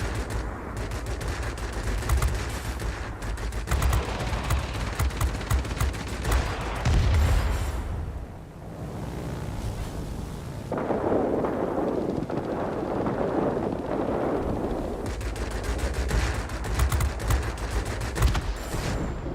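Sustained, loud aircraft machine gun fire from a World of Warplanes dogfight near a Spitfire, with long rapid bursts and brief lulls over a steady engine and wind roar.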